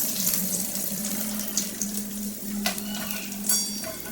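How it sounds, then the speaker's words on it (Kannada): Onions sizzle and fry in a pan for a gobi aloo gravy, a steady hissing crackle with a few brief stirring clatters, and no talk. "ಇದಾದಮೇಲೆ ಈರುಳ್ಳಿ ಹಾಕ್ತಾಯಿದ್ದೀನಿ."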